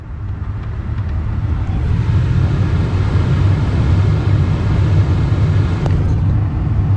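A 2013 Ford F150 blower motor runs at higher speed, giving a loud, steady whirring rumble with a low hum. It continues alone and unbroken throughout.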